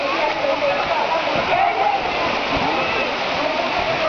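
A roadside waterfall on the way to Pratapgad roars in a loud, steady wash of rushing water, with voices speaking faintly underneath.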